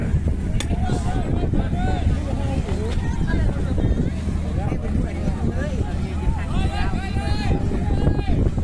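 Strong gusts roar across an outdoor stage at a Thai concert, a constant loud buffeting wind rumble with voices and talk throughout.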